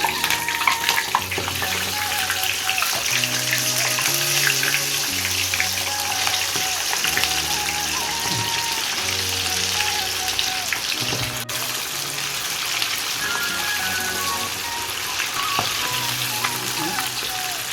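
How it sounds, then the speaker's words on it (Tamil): Prawns deep frying in hot oil for prawn 65, a steady dense sizzle and bubbling running continuously at even loudness throughout, with no voices. "இப்போ நல்லா எண்ணெய் காஞ்சிருச்சு. ஹீட் இது வந்தாலே எண்ணெய் நல்லா காஞ்சிருக்கு. நம்ம ஒன்று ஒன்றா போடுவோம்."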